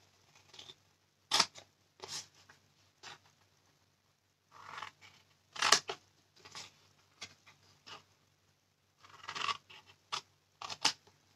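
Scissors cut paper along its folds to separate the pieces of a small paper box, in short crisp snips grouped in bursts with pauses between, close and alone.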